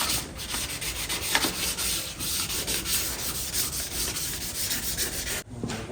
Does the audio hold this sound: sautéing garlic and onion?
no